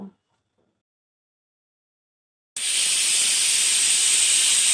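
Pressure cooker cooking potatoes with salt suddenly releases steam after near silence, a loud, sharp, continuous hiss that holds steady to the end.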